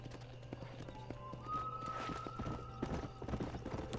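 Horse hooves clip-clop in a steady rhythm in a video game, close and moderately loud, with a brief neigh midway and game ambience underneath.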